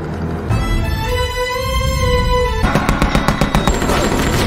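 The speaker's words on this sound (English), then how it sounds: "When Bodas was busy shooting at Joe" A film scene of rapid gunfire, a dense run of sharp shots that rises to fast, loud bursts in the last two seconds, with a sustained tonal sound underneath the start.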